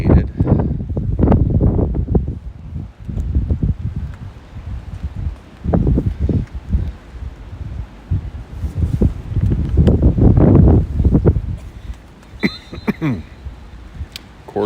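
Gusty wind blows across an outdoor soccer field during a match, buffeting the microphone in loud, uneven rumbling bursts with calmer gaps between.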